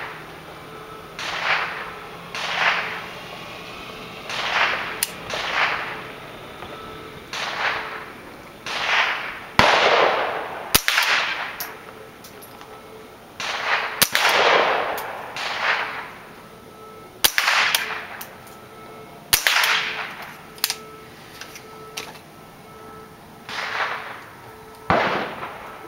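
Smith & Wesson M&P 15-22 rifle firing at a range, sharp single cracks repeating at irregular intervals of one to three seconds, close and loud.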